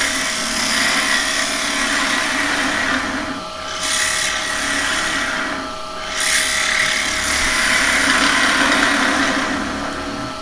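Zebrano wood spinning on a woodturning lathe as a carbide tool cuts it, a loud steady whirring rasp that swells and eases twice as the tool sweeps up and back down along the piece, with no talk.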